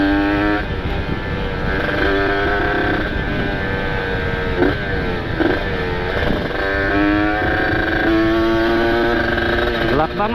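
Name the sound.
motorcycle engine with aftermarket exhaust running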